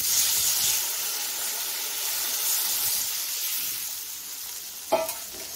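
Green chillies and tomato frying in a pan for Tengra fish curry, with three green chillies just added. A steady, loud sizzle runs throughout, and a brief stir clatters near the end.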